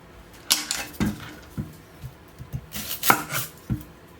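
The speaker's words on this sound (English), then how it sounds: "So I'm just going to chop up all these veggies." Vegetables for a frittata are chopped on a cutting board, about eight sharp knife knocks spaced irregularly over a few seconds, close and fairly quiet with no talk.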